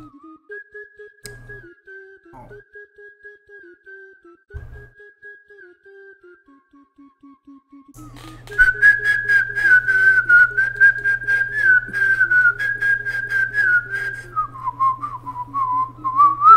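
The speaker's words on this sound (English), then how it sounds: "You gotta love the whistling melodies." Whistled melodies from the music game Incredibox trill a clear wavering tune, first sparse over a quiet beat, then joined by a fuller, louder rhythmic backing for the second half.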